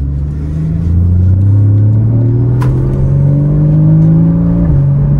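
A loud Porsche Cayman S 981 engine revs upward, its rumbling tone climbing steadily in pitch, with a brief crackle midway before the gear shifts.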